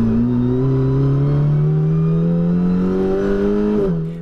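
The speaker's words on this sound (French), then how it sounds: "doublant ici la numéro 65 de Sébastien Rion pour se rapprocher du top 5" A race car in the Bitrophy race at the Mettet circuit overtakes another car. Its engine note climbs steadily under acceleration, then drops sharply with a gear change near the end.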